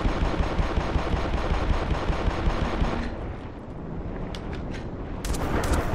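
Gunfire in the Black Mesa game, a loud, dense burst of rapid automatic fire for about three seconds, then a quieter muffled stretch and a few sharp shots near the end.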